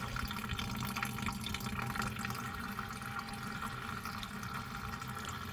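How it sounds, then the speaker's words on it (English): Antifreeze draining from a Ram 2500 radiator during a radiator replacement, a faint steady trickle and splash of liquid running continuously into a pan, with no talk over it. "I'm in the process of draining all the antifreeze out of my radiator because I got to change the radiator in it."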